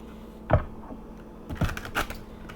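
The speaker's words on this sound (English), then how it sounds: "Let me do one more shuffle." Tarot cards being shuffled on a table, a few sharp papery clicks and riffling snaps at uneven intervals, close and fairly quiet against a soft background.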